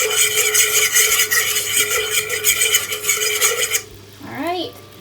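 A spoon scrapes and stirs ketchup sauce in a metal pot for several seconds in steady rasping strokes, then stops, leaving quieter clinks and a brief rising squeak.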